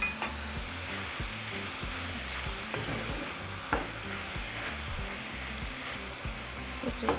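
Roma tomatoes and roasted, peeled hatch peppers frying in a pan for bistec ranchero, stirred with a utensil: a constant close sizzle with repeated scraping strokes and light knocks against the pan, and no talk.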